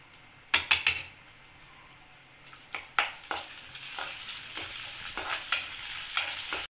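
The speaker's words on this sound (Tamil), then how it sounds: "நெய் நல்லா காஞ்ச பிறகு வந்து நான் வந்து ஒரு சின்ன குட்டி தேங்காய் சின்ன இப்படி பல்லு பல்லாக வெட்டி வச்சுருக்கேன், அதை போட்டுடலாம்." Small pieces of coconut frying in hot ghee, a steady bright sizzle with repeated clicks and scrapes of a metal spoon against the pan, close and fairly quiet with no talking.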